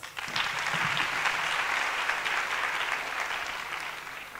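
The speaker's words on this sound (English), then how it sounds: "A big round of applause." An audience in a hall at a student recruitment roadshow breaks into a sustained round of applause, dense many-handed clapping starting abruptly and holding steady throughout, with a faint voice early on.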